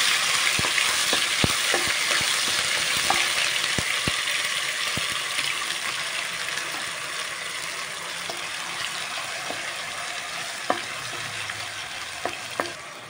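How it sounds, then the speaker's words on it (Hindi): Ginger garlic paste frying in a pan while preparing chicken liver masala, giving a steady loud sizzle throughout with scattered sharp clicks and crackles from stirring and spattering. "जिंजर गार्लीक पेस्ट मातसो भाजून घेवपाचो"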